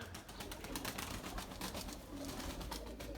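Young white pigeons cooing in a cramped loft space, soft low coos blended into a steady wash of background noise, with no voices.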